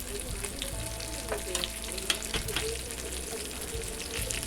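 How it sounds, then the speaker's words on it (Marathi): Mackerel shallow-frying in oil on a flat pan, turned to cook both sides, with a steady close sizzle and crackle running throughout and a few brief stirring clatters. "दोन्ही बाजूंनी मासे पलटी करून व्यवस्थित भाजून घ्यायचे आहेत तेलावरती."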